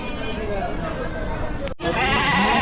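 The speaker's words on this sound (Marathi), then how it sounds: "शेळी बघा मित्रांनो एकदम मोठ्या मापाची शेळी आहे" A goat bleats amid a noisy crowd of voices and livestock at a large goat and sheep market in Chakan, Maharashtra, with a brief dropout before the chatter resumes.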